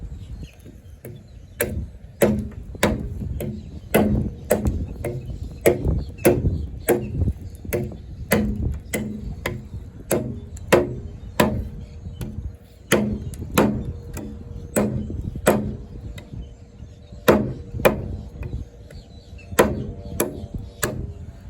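An Eafengrow EF-141 combat/utility knife with an AUS10 steel blade chops through hardwood, giving a long series of sharp, close, rhythmic wooden thwacks about once a second, with brief pauses between bursts.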